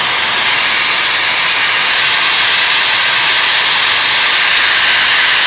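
A Shark FlexStyle air styling and hair drying system blows hot air in a loud, constant hiss with an even, unbroken rush close to the microphone and no voices.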